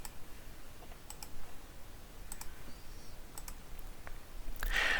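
Sparse, sharp mouse clicks at a desk while someone works in a custom 2D tile engine built with SDL3, a few isolated clicks spread across the stretch with a small cluster near the end.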